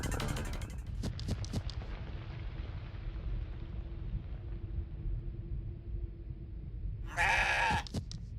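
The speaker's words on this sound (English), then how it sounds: "Excited goat noises." A goat bleats excitedly in the CrossCode video game, a short wavering cry near the start, then rumbling game ambience, and another bright bleat burst near the end.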